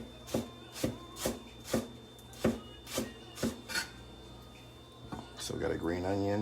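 A knife thinly slices green onions on a bias, making about nine crisp, evenly spaced chopping strokes on a board, followed by a voice speaking.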